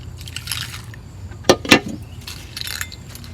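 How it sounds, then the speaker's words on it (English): Coins being washed and rinsed under running water, with soft trickling and dripping and two sharp clinks of metal near the middle. "Wash both sides of the coin like that and rinse it off just like you did your paper money."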